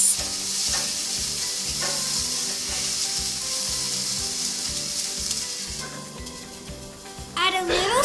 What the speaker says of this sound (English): Now we're going to add a few vegetables and then close the lid and let it fry for a few minutes.